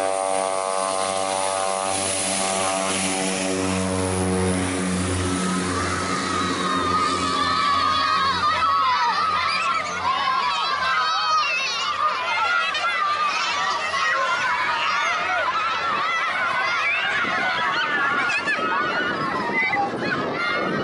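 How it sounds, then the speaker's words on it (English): A propeller plane runs up and takes off, its steady engine drone swelling and then giving way to a crowd of excited children in Congo shouting and cheering loudly. "These kids in Congo got really excited watching this plane take off."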